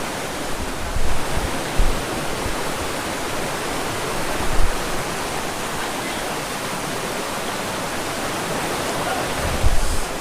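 A hidden waterfall among the hills and tea gardens of Assam roars as a loud, steady broadband rush close by, with a few faint voices and bumps underneath.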